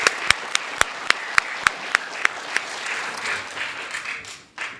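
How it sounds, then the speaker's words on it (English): Audience at a children's speech competition for ages 7-8 gives a round of applause for the event's MCs, with sharp individual claps standing out early before the sound thins into a scattered, fading patter. "Can we give our MCs a big round of applause?"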